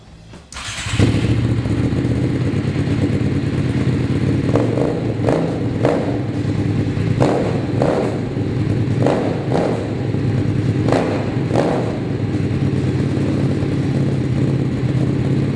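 A 2008 Aprilia SXV550 supermoto motorcycle engine runs steadily and close while riding on a track, with repeated revs and shifts rising and falling over a constant rumble.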